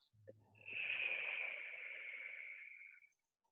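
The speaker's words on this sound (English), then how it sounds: "and breathing out" A single long exhale during a yoga breathing exercise, a soft airy breath out through the mouth lasting a few seconds, close and quiet, then silence.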